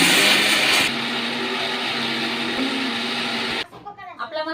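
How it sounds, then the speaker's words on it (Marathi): A kitchen mixer grinder grinding spice masala whirs loudly and steadily for several seconds, then cuts off abruptly, leaving a brief moment of faint voice. "आता आपण पटकन मिक्सर मधून मसाला काढू"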